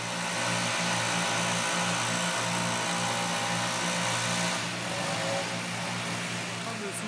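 A snow blower engine clearing snow off a football pitch hums in a steady mid-pitched drone with pulsing rhythm, close and continuous, while people talk over it.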